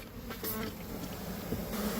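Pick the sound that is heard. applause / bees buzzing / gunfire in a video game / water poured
bees buzzing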